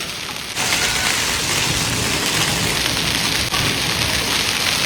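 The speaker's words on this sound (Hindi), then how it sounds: "बारिश अब कम आ रही है, बर्फबारी ज़्यादा हो रही है" Heavy hail and rain drum down in a dense, unbroken roar that swells after a brief quieter start, the hail heavier than the rain.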